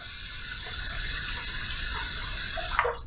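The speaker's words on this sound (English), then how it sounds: "So we're going to heat this up under some hot water." Hot water runs steadily from a tap to warm a tub of shaving cream, a close, continuous splashing hiss that holds level for about three seconds before a brief clatter near the end.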